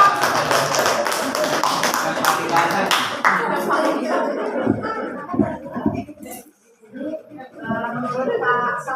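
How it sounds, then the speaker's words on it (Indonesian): An audience at a primary-school teachers' talk show in Majalengka claps for a questioner in a short, fairly close burst of a few seconds. The clapping thins out and gives way to people talking. "Tepuk tangan dong buat Bapak."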